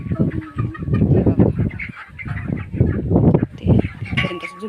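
Several chickens cluck and squawk close by in a busy, overlapping flurry, with faint farmyard background and little talk.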